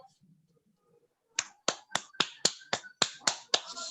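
A child claps for participants at a virtual Republic Day school celebration, about ten sharp, separate claps in a fairly steady rhythm, close and crisp, following a moment of faint murmuring.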